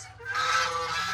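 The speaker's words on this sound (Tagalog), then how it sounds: "Daming gansa." Geese honking together on a farm where they are kept for eggs, a loud continuous chorus of overlapping honks filling the short stretch, with no talk.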